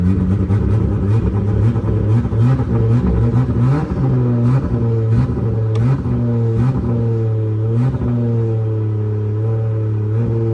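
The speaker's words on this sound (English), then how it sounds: "This is a cold start on 34 where it's been tuned." A tuned Nissan Skyline R34 GT-R engine revs repeatedly on a cold start, loud and close, rising and falling in a series of blips over a rough, steady idle, with no talking.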